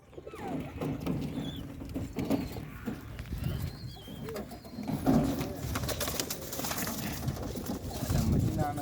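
Racing pigeons in a loft cooing in low, repeated murmurs, with faint rustling and fluttering nearby and people talking quietly in the background.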